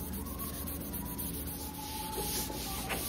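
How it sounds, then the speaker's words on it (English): A scotch pad rubs steadily into the grain of repaired rotten wood, making a close, continuous scratchy abrasion with rhythmic back-and-forth strokes and no talking. "I'm just kind of gonna push the scotch pad into those grains just to get rid of that little bit of a shiny spot"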